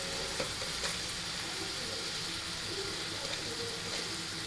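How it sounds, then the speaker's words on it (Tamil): Tomatoes with salt sauté in ginger garlic paste in a pan for prawn biryani, a dense continuous sizzle with occasional soft stirring scrapes, close and fairly loud with no talk. "மசிச்சு விட்டு வதக்கிக்கோங்க தக்காளியை"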